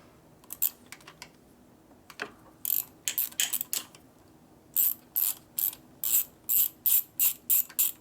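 Socket wrench ratcheting on a bolt of a Harley-Davidson Road Glide twin cam six-speed transmission during a gear swap, quick bursts of close clicking, sparse at first and then a steady series of strokes.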